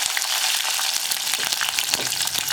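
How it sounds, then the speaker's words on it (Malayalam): Chopped garlic sautéing in a pan for a tomato curry, giving a steady close sizzle and crackle with occasional pops and stirring scrapes, no voices. "വെളുത്തുള്ളി ഒന്ന് നന്നായിട്ട് കുക്കായി വരുന്നത് വരെ നമുക്കൊന്ന് വഴറ്റിയെടുക്കണം."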